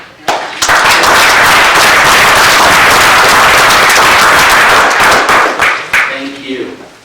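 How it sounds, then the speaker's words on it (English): Loud, sustained round of applause from a council meeting audience honoring a firefighting team, dense clapping running for about six seconds before tapering, with a voice starting as it fades. "Your team deserves a round of applause."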